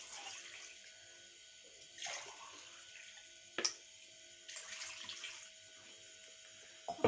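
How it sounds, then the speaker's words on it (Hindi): Two glasses of water poured into a cooking pot for plum chutney, heard as a few soft, splashy bursts separated by quiet pauses, with no talking. "और इसके अंदर 2 गिलास पानी का मैं डाल दूंगी।"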